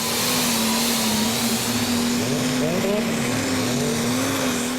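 Prostock pulling tractor engine during a tractor pull run at the 2014 Eurocup in Brande, Denmark, a loud steady roar with a sustained droning tone, heard continuously throughout.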